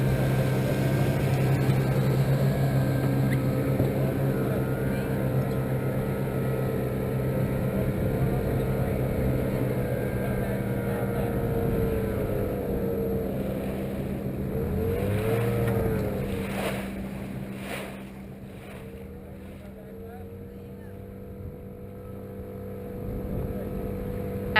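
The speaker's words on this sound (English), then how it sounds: "While many boats were courteous and slowed down when passing, some seemed to intentionally speed up." Steady droning motorboat engines rumble nearby on the Intracoastal Waterway, swelling and fading as craft speed past, with a brief louder whoosh partway through before the noise settles lower.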